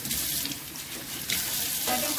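Tap water runs steadily into a sink while something is rinsed under it, a continuous close splashing hiss during home cooking of Filipino chicken tinola with lemongrass.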